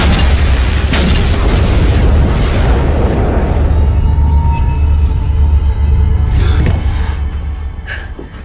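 A bus exploding in a Chinese TV drama scene: one loud, deep blast that roars continuously for about eight seconds before starting to fade at the very end, with no voices over it.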